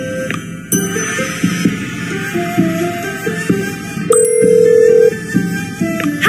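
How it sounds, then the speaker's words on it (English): A phone rings repeatedly in a visual novel game, a steady electronic ring sounding in bursts over a soft background hum and music, with one longer sustained tone near the end. "Katsumi's phone was ringing, and it kept ringing"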